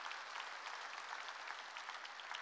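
A church congregation claps together during a sermon, a dense, even wash of applause held steady for a few seconds, heard from a distance and fairly faint, with no clear voice on top.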